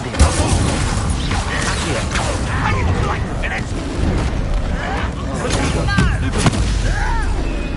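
The Incendio fire spell is cast repeatedly in Hogwarts Legacy amid a battle, with whooshing bursts and booming impacts sounding over a dense, continuous mix of combat effects and voices.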